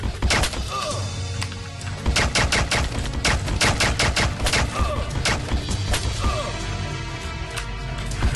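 Heavy gunfire from a big gun in a shooter video game, rapid loud bursts of booming shots in quick volleys with sharp impacts, continuous and dense throughout, with no talking.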